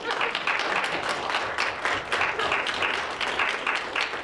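An audience at a library-science colloquium applauds at the end of a talk, a steady, even wash of clapping from many hands in a room, with no one talking.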